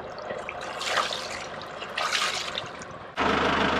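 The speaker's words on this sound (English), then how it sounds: "So the raw water pump is working." Steady rushing and trickling of water moving through a boat's raw water pump on an overheating Perkins 4-108 engine, with surges in flow and a sudden louder gush near the end.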